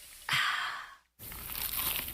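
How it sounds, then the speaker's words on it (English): A crunchy, cheesy slice of pizza is bitten, giving a crisp tearing, crinkling crunch that lasts under a second, followed by a short silence and then a steady, noisier stretch, close and moderately loud, with no talk. "Is that the sound of an ooey gooey cheesy crunchy slice of P-I-Z-Z-A?"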